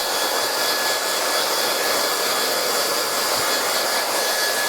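A hair dryer blows steadily during a volume blow-dry of hair on a blockhead, a loud, constant close-up whoosh that runs unbroken throughout with no talking.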